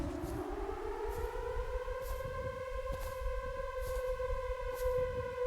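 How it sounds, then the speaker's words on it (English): A tornado warning siren wails in the Dreamcore Eternal Suburbia game, a steady rising-and-holding tone with layered harmonics over a low rumbling bed, sounding continuous and moderately distant with no voices. "Why is a tornado siren going off?"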